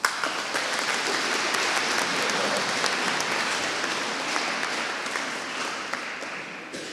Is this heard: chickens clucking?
no